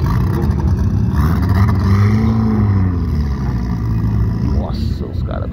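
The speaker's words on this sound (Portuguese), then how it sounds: "Mas os caras vão queimar pneu agora" Turbocharged street cars, including a lowered VW Gol drag car, rev hard on a street race strip, a loud sustained engine roar with rising pitch sweeps and tire noise, excited voices shouting over it.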